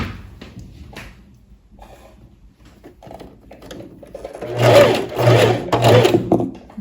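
A sewing machine stitches a seam on a lined tailored vest, quiet handling at first, then a loud steady run of stitching in the last few seconds.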